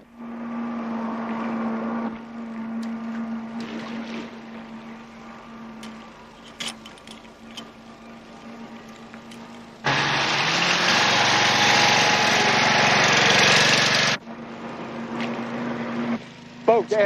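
A boat engine drones at a steady pitch, then swells into a loud, close roar for several seconds before falling back to a lower hum, with muffled voices underneath.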